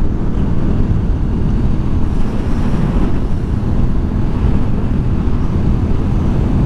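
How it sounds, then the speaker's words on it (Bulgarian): Strong wind roars into the microphone outdoors, a loud, constant rumbling buffet that lasts throughout with no talking. "Какво е ветровито обаче"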